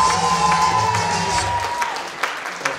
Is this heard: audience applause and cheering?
yes